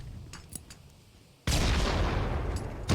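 Frag grenade explosions in the VR shooter ContractorsVR: after faint shots, a sudden loud broadband blast lands midway and roars on, swelling again at the end, with no talking.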